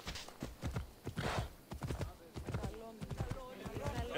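In Assassin's Creed Odyssey, a horse called by its rider trots up with quick, close clip-clop hoofbeats and a brief snort or whinny, with some talk over it.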